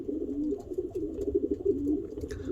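Racing pigeons coo softly and continuously while feeding, a low rolling warble close by, with a few faint higher chirps and rustles near the end.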